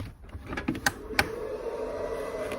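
Ethernet switch powering up and running its self-test in an installation space, with clicks and knocks early on over a steady whirring fan hum that continues throughout.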